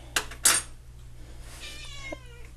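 A house cat gives a single meow near the end of a kitchen scene, preceded by two sharp clinks of dishes or a can being set down, with faint household background and no talking.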